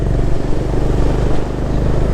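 A Honda Highness CB350 motorcycle cruises on a highway, its engine a steady, loud, close low rumble with a dense throbbing texture and no pauses.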